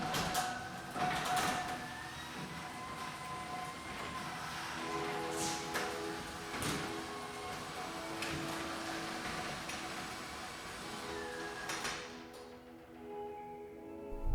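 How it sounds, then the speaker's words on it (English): A newly installed garage door opener lowers the garage door with a quiet, continuous motor whir and rattle, a few knocks and clicks along the way, before going still near the end. "I felt like it was now time to take another shot at lowering the door."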